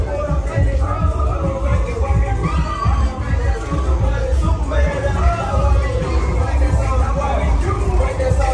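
Dense crowd hubbub fills Walking Street among little bars: loud, continuous overlapping chatter and footsteps with a low throbbing undertone, close around and unbroken throughout.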